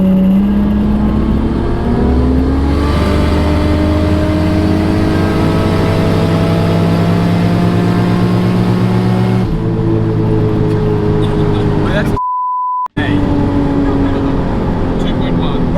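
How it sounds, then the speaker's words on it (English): A loud car engine revs hard and close, with pitch climbing and holding through long pulls, a shift partway through, and a brief dropout before the drone resumes. "Just because the car's loud."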